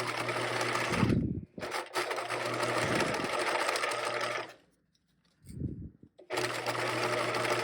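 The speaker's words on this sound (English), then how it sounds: "I'm going to stitch and backstitch this one seam." A sewing machine stitches and backstitches a seam on a caddy bag, running in loud, close bursts of rapid mechanical whirring separated by short pauses, with a longer stop before it starts again.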